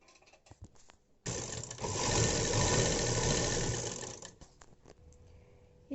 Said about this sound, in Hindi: अब हम अपना नीचे वाला पार्ट जो है ये हमारा, हम अपनी इस पर सिलाई लगा देंगे